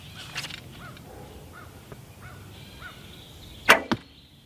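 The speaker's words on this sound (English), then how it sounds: "A little noisy because I don't have string silencers or anything on it." Longbow shot without string silencers: a sharp, loud twang and thump of the released string near the end, preceded by faint bird calls in the background.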